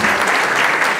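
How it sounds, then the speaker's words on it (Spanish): A crowd claps loudly and steadily, a dense burst of applause close by, at an outdoor event of old-time musicians in Pachuca. "Yo quiero pedir un fuerte aplauso para los organizadores."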